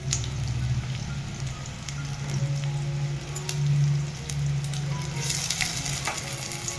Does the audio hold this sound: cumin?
yes